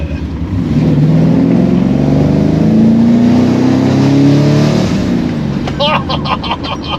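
A loud V8 engine in a Holden HT roars as it accelerates, pitch climbing steadily through the gears before easing off, heard from inside the car.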